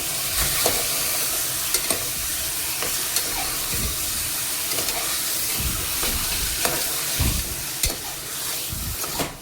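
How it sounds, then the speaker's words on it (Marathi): Mutton pieces sautéing with onions in hot oil over a high flame, a loud continuous sizzle broken by repeated scraping and stirring knocks of a spoon against the pan. "इथे मी 1 मिनिटभर त्या मटणाला छान हाय फ्लेमवरती परतवून घेते"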